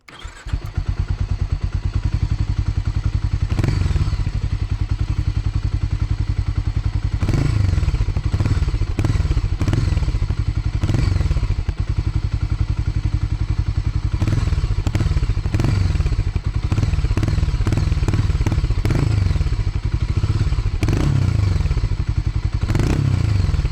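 A Harley-Davidson X440 motorcycle starts up and idles, its engine and exhaust giving a loud, close, steady thumping rumble, with repeated revs swelling and falling throughout and some clatter underneath.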